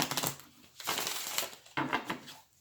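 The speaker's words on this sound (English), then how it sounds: "I'm going to do just a quick shuffle here" Tarot cards shuffle quickly in the hands, giving three short bursts of crisp riffling and papery flutter, close and fairly quiet.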